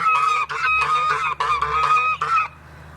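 Several loud, nasal goose honks come in quick succession from close by, then stop abruptly.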